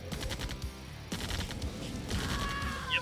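Gunfire from a Command & Conquer Remastered battle in Tiberian Dawn, a GDI mission, with repeated shots and bursts that run continuously over busy game sound and grow denser toward the end.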